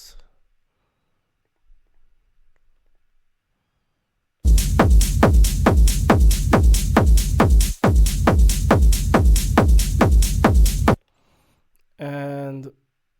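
Techno drop with a heavy four-on-the-floor kick and top loop playing together, with sidechained low end processed by EQ, pounding loud and steady for several seconds, briefly cutting out midway, then ending with a short effect tail.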